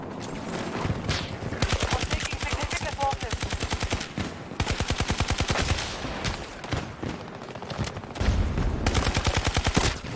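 Gunfire in the shooter game Battlefield 2042: long, loud bursts of rapid automatic fire in several rattling volleys separated by short gaps, with a faint voice underneath.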